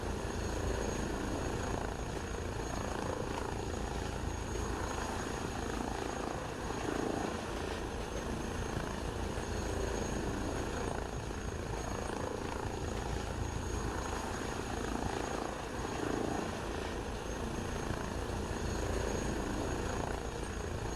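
A video game helicopter's steady rotor drone and engine whine hold constant and loud throughout, with a faint rhythmic thumping and no voices.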